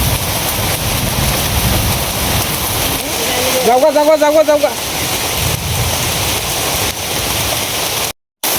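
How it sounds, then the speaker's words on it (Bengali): Heavy rain pours down hard and continuously close by, a dense hiss that fills the whole scene, while a brief cry or voice rises over it partway through and a few words are spoken. "প্রচন্ড বৃষ্টি শুরু হয়েছে, দেখেন বৃষ্টি।"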